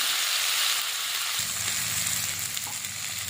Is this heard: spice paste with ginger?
yes